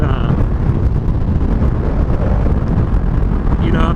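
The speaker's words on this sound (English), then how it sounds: "it's a bike with no windscreen. You get a lot of wind right in the face" Heavy wind buffeting a microphone on a motorbike rider with no windscreen, a loud, steady low roar with constant gusty rumble.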